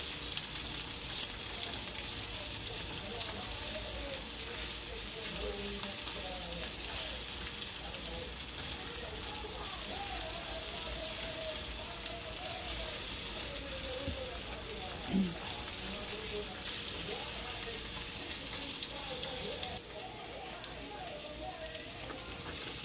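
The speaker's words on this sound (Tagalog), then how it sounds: "igisa natin konti yung sibuyas niya. Para lang maluto yung sibuyas." Onions for beefsteak sauté in a pan with a continuous crackling sizzle, fairly steady and close, with occasional faint stirring sounds and a slight drop in intensity near the end.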